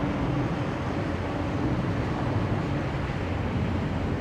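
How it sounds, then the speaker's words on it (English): A Boeing 767 engine run-up at London Heathrow Airport produces a steady, broad rumbling roar that holds constant at a distance without breaks. "Definitely another engine run-up. That sounds like a 767."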